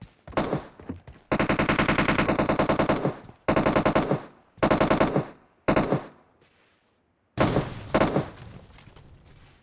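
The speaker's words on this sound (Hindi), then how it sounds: "आगे से फायरिंग चल रही है" Loud automatic gunfire from PUBG Mobile rattles out in several close bursts: a long sustained volley, then shorter rapid bursts separated by brief silent gaps, and a final burst with no talk.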